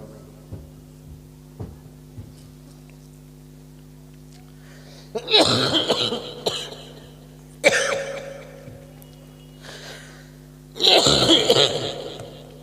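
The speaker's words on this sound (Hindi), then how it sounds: "खांसी है, खांसी।" Several harsh, close coughs burst out in separate fits over a low steady hum, from a man suffering from a cold after travelling in winter.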